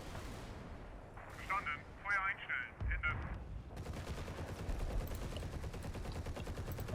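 Mortar and artillery fire in the WWII video game Combat Mission, distant booming impacts and crackling gunfire, with a brief burst of voices before a sustained rumbling barrage.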